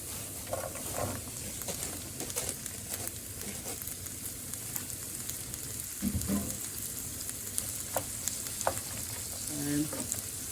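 Fava beans frying with garlic in a pan, a steady close crackling sizzle with intermittent stirring clatter and a few louder pops.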